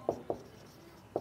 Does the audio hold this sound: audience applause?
no